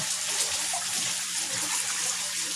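Water pours and splashes steadily into a DIY pond tank, a continuous bright rushing hiss close by with no pauses.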